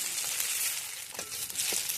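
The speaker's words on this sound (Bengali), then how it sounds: "দিয়ে দিচ্ছি দুটো তেজপাতা" Two bay leaves sizzling in hot oil while cooking a thin rohu fish curry, a soft continuous hiss with a couple of faint crackles, fairly quiet and without talk.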